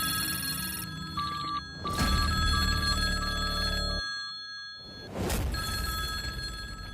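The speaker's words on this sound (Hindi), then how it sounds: "राहुल ने फोन उठाया" A phone rings with bright, repeating electronic bell tones in two loud bursts separated by a short gap, heard on its own with no voices.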